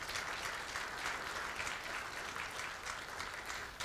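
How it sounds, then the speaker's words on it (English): An audience claps at an athletic hall of fame ceremony, a dense, steady wash of applause that holds evenly throughout with no voices standing out. "Let's have another round of applause for Jade and Caleb."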